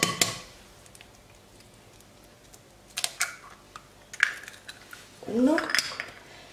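Eggs cracked one after another against a bowl for a microwave chocolate brownie batter: sharp taps spaced apart, then a wet slipping plop of egg into the bowl near the end, close and fairly clear with no talking.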